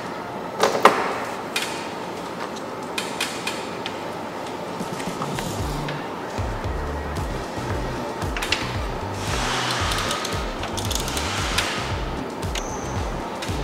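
A ratchet or power tool tightens roof rack mounting nuts on a 2021 four-door Ford Bronco, a close mechanical whirring with rapid clicking bursts and a few sharp knocks, with no talking.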